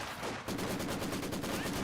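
A Maxim machine gun in Company of Heroes 2 rattles off a rapid burst of evenly spaced shots after a brief lead-in, loud and continuous in the game's battle mix.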